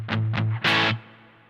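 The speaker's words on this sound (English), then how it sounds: "You can hear the reverb coming through a lot more there." Electric guitar played through a Vahlbruch Pipeline Reverb pedal with the reverb mix turned well up: two quick plucked notes, then a brighter strummed chord whose tail washes out and lingers softly. Played alone, close, with no talking.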